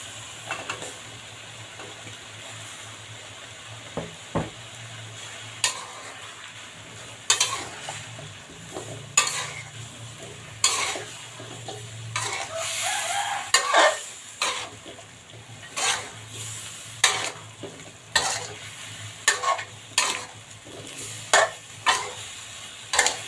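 Eggplant being stir-fried in a pan for a catfish red curry, with a long run of rhythmic scraping stirs against the pan over a steady sizzle, close and loud.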